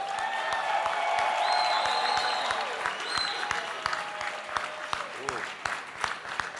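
A crowd at the 2013 Reggae Culture Salute awards ceremony applauds steadily with scattered cheers, a voice calling out over the clapping.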